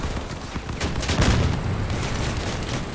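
Explosions from bombs dropped in the vehicle combat video game Crossout: a dense, continuous barrage of booms and bursts with a stronger blast near the middle, loud throughout.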